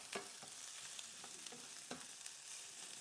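Vegetables stir-frying in hot oil for Thai panang curry, a continuous close sizzle with repeated light stirring scrapes, faint overall and with no talking.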